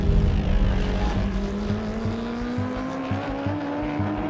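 Racing motorcycle, a Ducati superbike, running alongside an Audi R8 race car at Monza circuit, a loud sustained engine roar with rising pitch and gear changes, close and continuous with no talk.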